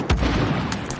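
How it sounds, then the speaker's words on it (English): Distant booming blasts from an airstrike in the video game Modern Warfare, a muffled thump followed by rumbling, crackling detonations over about a second. "Airstrike!"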